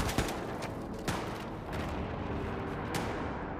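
Enemy gunfire in Wolfenstein II: The New Colossus, a dense, loud rattle of continuous shots with a few sharper cracks standing out, heard without any talking.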